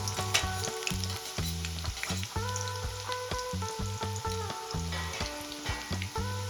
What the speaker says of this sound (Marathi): कांदा छान गोल्डन कलर होईपर्यंत परतून घ्यायचा आहे आपल्याला